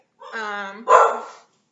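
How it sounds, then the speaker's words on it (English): A dog gives a drawn-out whining cry and then a sharp bark that trails into a yelp, close by and isolated against quiet. "Sorry, the dogs are crying."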